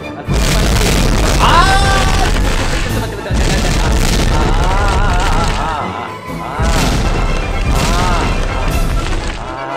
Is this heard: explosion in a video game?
yes